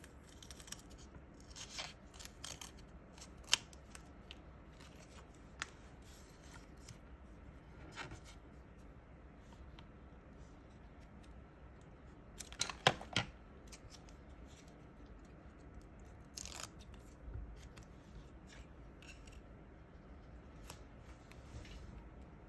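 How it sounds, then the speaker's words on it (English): Scissors cutting a scrap of double-sided foam sheet for a homemade Halloween card, soft close snips and rustles scattered across a quiet room, faint and intimate. "I'm going to cut that right down the middle."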